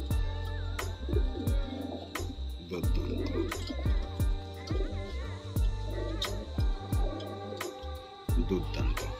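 Madrasi pigeons, including a soft ghiya patti bird, coo nearby in repeated deep, throbbing phrases over a constant low hum, with a bit of background chatter.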